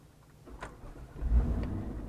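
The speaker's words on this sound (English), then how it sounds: "touch it to the start position, and it will crank until it recognizes the engine is running" A Jeep JK fitted with an LS engine cranks on its starter and catches, a low rumbling build-up that rises into a steady engine note close by.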